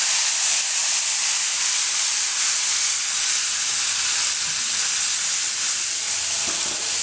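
Spice mix for a cabbage and yogurt curry sizzling steadily in hot oil over a low flame, a dense continuous hiss with no voices, even in level throughout.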